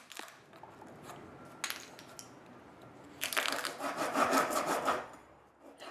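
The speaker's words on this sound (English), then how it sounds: "a chisel can be used to pry out the wood from the dado joint gaps" Wood being pried and scraped out of dado joint gaps in a board with a chisel, a close dry crunching and rubbing that starts in scattered scrapes then turns into a louder sustained stretch of splintering and grinding.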